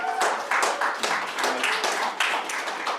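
Scattered, half-hearted clapping rises from an audience at a community event on school closings, public housing and law enforcement, a few hands tapping in loose, uneven bursts that never build into full applause.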